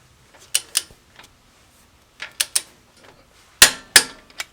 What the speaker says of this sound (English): So now we're gonna torque the bolt 60 foot-pound